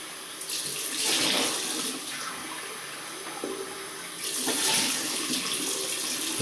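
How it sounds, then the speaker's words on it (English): Warm tap water runs steadily into a sink while a vintage 1953 Schick Injector Bakelite razor is rinsed, a continuous close splashing hiss that swells twice as the stream shifts. "That's just warm water."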